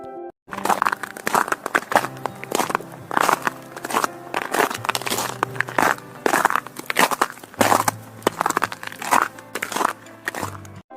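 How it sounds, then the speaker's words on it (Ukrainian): Repeated crunchy, crackling compressions of snow underfoot, steady footsteps close by, with a faint tonal hum beneath. "Це сніг скрипить під ногами."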